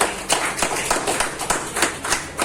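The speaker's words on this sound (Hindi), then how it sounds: "आज आप लोग इस सीरियस पर्सन के लिए जोरदार ताली होनी चाहिए खुद के नाम" A seminar audience claps in unison, a steady burst of applause with sharp rhythmic hand claps filling the room for a couple of seconds.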